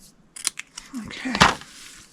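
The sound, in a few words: scissors cutting out paper sentiment by hand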